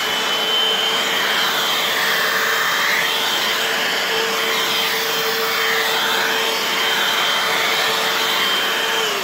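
A Dibea F6 cordless stick vacuum runs with its motorized brush over pile carpet, producing a loud, constant high-pitched whine and airy roar with slight swells as it passes back and forth, no voices.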